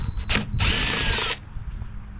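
Two quick, close bursts of a cordless power drill with a 5/16 bit backing out screws on a 2016 Ford Escape, a short whir followed by a longer steady spin before stopping.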